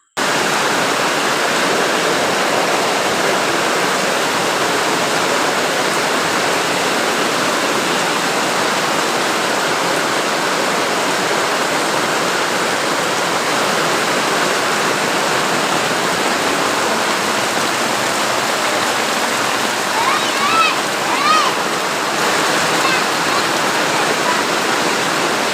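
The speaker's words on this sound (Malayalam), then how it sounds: "അപ്പോഴും മഴ പെയ്തുകൊണ്ടിരിക്കുകയാണ്." Heavy monsoon rain pours steadily near a house in Kerala, with water flowing around, making a loud, unbroken roar of hiss and rush throughout the clip.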